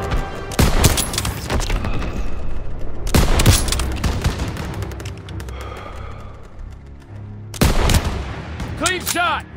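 Gunfire in the World War II video game Call of Duty WWII, with three loud bursts of rapid shots echoing and rumbling between them, and voices shouting through the battle.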